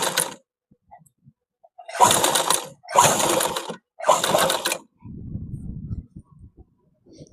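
Sewing machine stitching a school shirt collar: three steady, close bursts of rapid mechanical whirring and clatter with short pauses between them, followed by a quieter, lower run of stitching.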